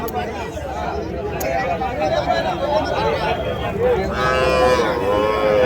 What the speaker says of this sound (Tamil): இதுவும் ஜெர்சி மாடு.